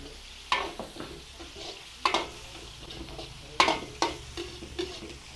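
Garlic and onion sautéing in a pan, a soft steady sizzle broken by sharp clacks of a utensil stirring and scraping at irregular intervals, close and fairly quiet.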